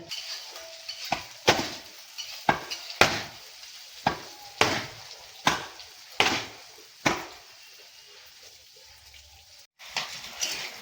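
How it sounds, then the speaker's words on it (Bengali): Taro pieces fry in a pan while a spatula knocks and scrapes against the metal about a dozen times in an uneven rhythm, over a faint background sizzle, with no voices. "এই যে মাছটা ভাজা হয়ে গেছে এবার কচুটা ভাজছি"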